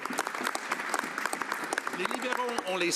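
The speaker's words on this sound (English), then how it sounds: "it's just the Conservatives who are applauding that" Conservative members applaud in the Canadian House of Commons chamber with dense, steady clapping from many hands, and a voice begins speaking near the end.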